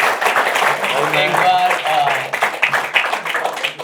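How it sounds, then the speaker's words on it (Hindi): Audience clapping at a stand-up comedy show for comic Ashish Solanki: a steady, dense wash of applause runs throughout while someone talks over it. "एक बार आशीष सोलंकी के लिए ताली बजा दो।"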